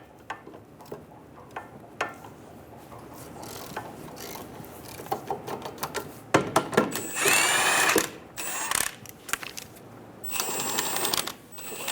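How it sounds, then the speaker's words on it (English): Ratchet with a 15mm socket loosening caliper bracket bolts on a 2000-2007 Ford Focus front brake, quiet clicking bursts and rattles with a louder ratcheting run near the end, close by. "Using a 15mm socket, remove the caliper bracket bolts."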